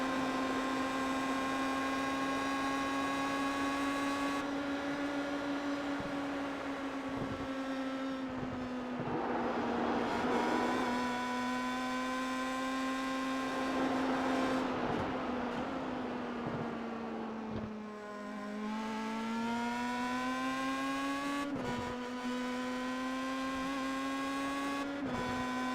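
A race car engine in the iRacing video game screams in a high, steady whine, its pitch sliding up and down through gear shifts, loud and continuous with no voices.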